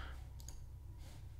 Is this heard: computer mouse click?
yes